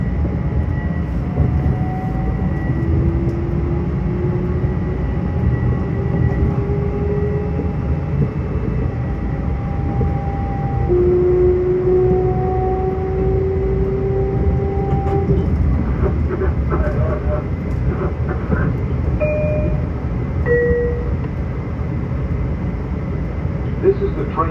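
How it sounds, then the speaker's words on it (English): A Long Island Rail Road train rolls steadily toward Penn Station from Long Beach, with a constant low rumble of wheels and car noise, faint squealing tones sliding in pitch, and occasional clicks and rattles throughout. "This is the train to Penn Station."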